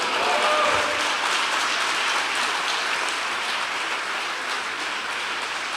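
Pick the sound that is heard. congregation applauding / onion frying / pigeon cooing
congregation applauding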